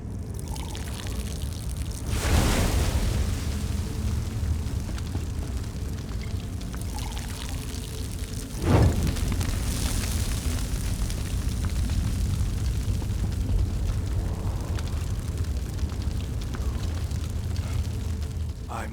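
In Elder Scrolls Online, liquid poured onto braziers sets them alight, giving a sustained pouring rush broken by two sharp whooshing bursts of ignition, the second the loudest, under a steady ambient bed.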